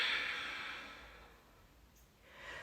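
A single long exhale from a yoga class cue, breathy and airy, loudest at the start and fading, with a faint second breath rising near the end; no speech.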